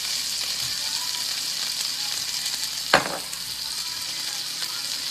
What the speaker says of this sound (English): I'm just gonna saute it. Little olive oil.